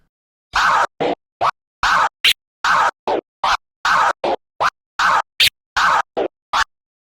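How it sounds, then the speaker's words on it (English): Rapid turntable transformer scratches cut in and out in short, choppy bursts, the sound chopped on and off repeatedly with silence between strokes. "you can do just 2 transformer clicks just like this"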